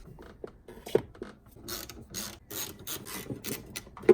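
A ratchet turning a 14 mm socket on a BMW E92 3 Series engine gives bursts of close, rapid clicking. Short pauses and a few metallic knocks fall between the bursts.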